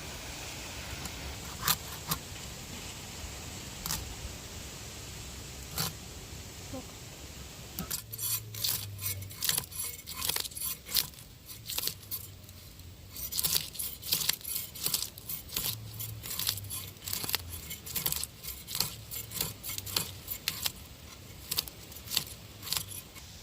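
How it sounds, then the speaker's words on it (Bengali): Hilsa fish being cut and scaled by hand, with a burst of sharp scraping and rasping strokes and small clicks, close and busy, following a quieter stretch of sparse taps. "এখন ইলিশটা আমি কেটে নিচ্ছি।"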